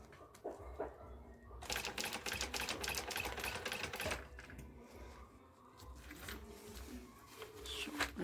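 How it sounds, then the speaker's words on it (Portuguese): A domestic sewing machine runs in a steady rapid clatter while stitching a fabric handbag with an open zipper, in bursts with short pauses and handling noises between runs. "Agora eu vou continuar aqui a costura."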